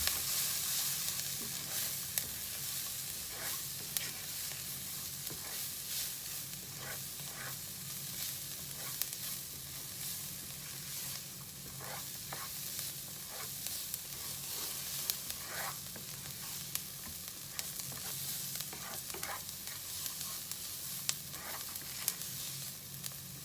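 Onions and okra spiced with dry mango powder sizzle steadily in a pan, stirred with soft intermittent scrapes and clicks under a constant close frying hiss, with no talking.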